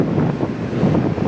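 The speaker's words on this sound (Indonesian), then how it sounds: "Tapi ombaknya lumayan nih." Ocean waves wash steadily under gusting wind at sea near a boat, a continuous rough rushing with soft swells rising and falling, no voices.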